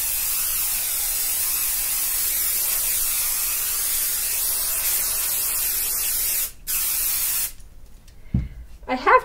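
Spray adhesive hissing steadily from an aerosol can onto minky quilt fabric over batting, one long continuous burst that stops briefly near the end, followed by a few handling noises.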